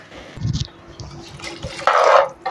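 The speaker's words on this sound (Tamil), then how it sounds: "மிக்சியை வந்து கழுவி ஊற்றிக்கலாம்" Water sloshing and splashing inside a mixer jar being rinsed, then a louder burst of pouring into a pan near the end, close by with some handling knocks.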